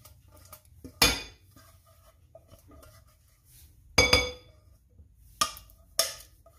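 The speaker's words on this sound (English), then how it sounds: "Let's go ahead and add your potato mixture" A few sharp metal clinks of a spoon against a bowl, spaced irregularly, with quiet scraping and small taps in between, close up, as sweet potato mixture is spooned into a baking dish.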